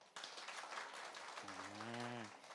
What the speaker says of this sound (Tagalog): Palakpak po ng malakas ulit.